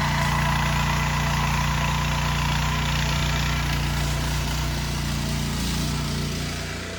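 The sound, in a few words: tractor engine running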